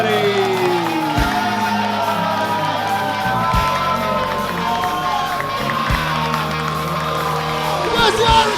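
A comedy club audience cheers and whoops for the evening's host, a loud, sustained crowd roar with scattered shouts running throughout.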